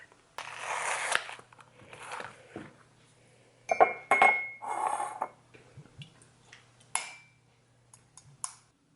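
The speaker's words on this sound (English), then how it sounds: "So I just like to pop one of those in a glass, pour some amarula on it" A large square ice cube clinks into a glass and Amarula is poured over it, giving a few sharp clinks and knocks with short pouring and sloshing sounds in a quiet kitchen, close up and without talk.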